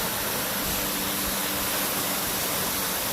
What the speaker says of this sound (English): This is my second set of falls today, and this one's called Fall Creek Falls.